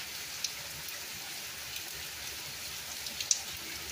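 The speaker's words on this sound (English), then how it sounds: "I just wanted to give you a little bit of the rain, so enjoy your 1 minute meditation." Steady rain falling in New York, a soft continuous hiss with occasional distinct drops tapping nearby.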